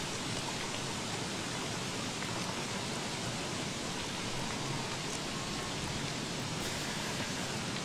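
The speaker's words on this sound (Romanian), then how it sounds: "ce mă enervează ploaia asta" Heavy rain pours in Don't Starve Reign of Giants as a steady, dense, loud wash of hiss that fills the whole stretch without letup and with no voices.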